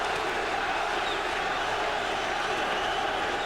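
Boxing arena crowd at a Prince Naseem Hamed fight chanting his name, a steady dense roar of many voices filling the hall, continuous and moderately loud with no pauses across the whole stretch.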